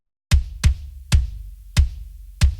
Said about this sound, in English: So the Get Good drums kick raw sounds like this